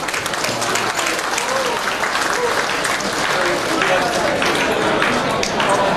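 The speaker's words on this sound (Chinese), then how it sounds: "给自己一个掌声好不好？" Sustained, loud audience applause at an anniversary fundraising gala dinner, many hands clapping continuously for several seconds with faint crowd noise mixed in.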